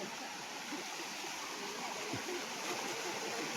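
Falls at Karugo in Montalban, Rizal, with water pouring down in a steady, broadband rush that stays even throughout, fairly close and alone with no talk over it.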